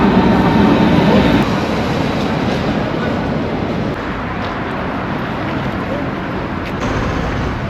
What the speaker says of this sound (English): Now we are going to take the subway to the East Side Galleries